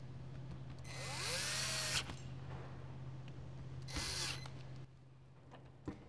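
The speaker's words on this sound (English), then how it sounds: "Ensuring that these screws do not cross thread on the way in." A power driver spins screws into a soil pick housing in two short whirring bursts with a pause between, close and fairly quiet over a steady low hum.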